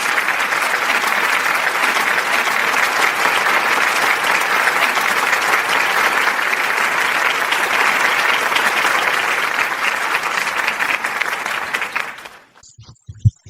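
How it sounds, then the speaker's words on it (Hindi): A large audience at a business talk claps loudly and continuously for about twelve seconds, then the applause quickly fades to near silence with a few last claps. "एक जबरदस्त ताली बजनी चाहिए।"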